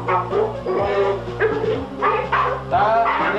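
A Presa Canario dog barks and yips repeatedly up close, with deep woofs and some whimpering mixed with background voices.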